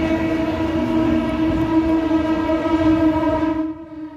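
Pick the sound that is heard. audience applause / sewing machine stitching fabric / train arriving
train arriving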